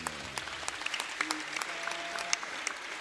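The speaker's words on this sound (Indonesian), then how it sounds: "Tepuk tangan untuk Sahik ini." An audience at a sholawat gathering gives scattered, moderately distant applause, uneven claps spread over a few seconds with some voices underneath.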